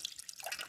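Water drips faintly inside a Corvette engine oil pan with condensation in it, a few soft, quick drips close by.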